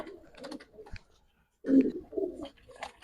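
Male pigeons, Giribaz high flyers, give a few soft, low coos close by among scattered faint clicks and rustles, with a quiet pause before the louder cooing.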